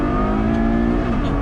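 Ferrari GTC4 Lusso V12 engine revving in sport mode, a loud, close, steady tonal roar that holds and then eases slightly in pitch, with no talking over it.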